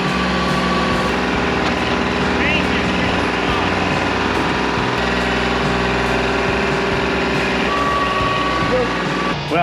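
A Kubota machine's engine runs steadily at a muddy cabin build site in the woods, a constant loud drone with intermittent high beeps, while someone speaks.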